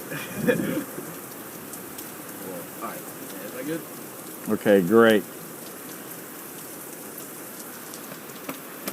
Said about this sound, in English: as you can see behind us, there is a storm.